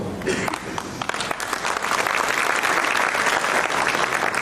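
Audience applause fills an opening-speeches hall at a commemoration event, dense and sustained throughout at close range, with some voices mixed into the clapping crowd.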